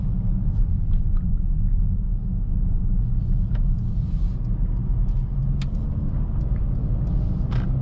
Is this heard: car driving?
yes